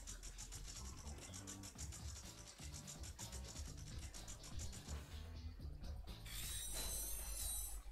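A bolt crank turns in the Ratchet & Clank video game, giving a continuous ratcheting, grinding mechanical whir with clicking gear pawls. Near the end it gives way to bright, sparkling game tones.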